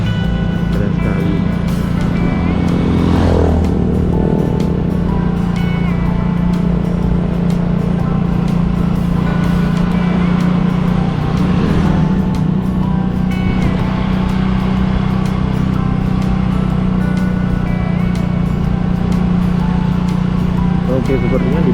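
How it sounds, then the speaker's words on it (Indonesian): Traffic on a main road near a rice-field village in Aceh Besar, a steady rumble of passing engines with a couple of louder pass-bys swelling and fading, continuous and moderately near. "di depan sana sudah ada jalan utama, jalan raya kendaraan ya. Lalu lalang di sana"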